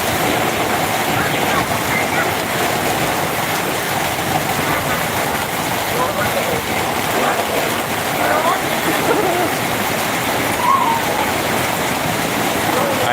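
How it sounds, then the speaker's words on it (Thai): In Phu Khiao, Chaiyaphum, Thailand, a steady, dense roar of heavy rain pours without pause from start to finish, with someone talking over it at times. "ฝนตกหนัก นี่เบื้องบรรยากาศฝนตกหนัก"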